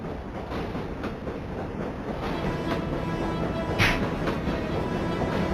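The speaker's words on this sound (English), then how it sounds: "The train clattered off into the flickering distance, and Joe DeMarco remained unconscious" A train in the video game Shivah clatters steadily away, a dense continuous rumble of rail noise with faint clicking, fairly loud and alone with no voices.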